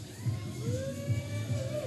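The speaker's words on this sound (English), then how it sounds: "the crowd showing their appreciation in sign and vocally here tonight" A wrestling crowd at a UCW Zero show cheers and shouts for Howie Alexander, a steady murmuring roar with rhythmic swells, heard at a distance and sustained throughout.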